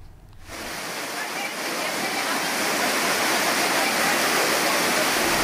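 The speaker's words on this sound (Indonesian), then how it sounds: "Banjir bandang menerjang 7 desa di 2 kecamatan di kawasan Puncak, Kabupaten Bogor." Flash flood water rushes through Puncak, Bogor, a dense, loud, continuous roar like a waterfall that swells in after a brief moment and holds steady throughout.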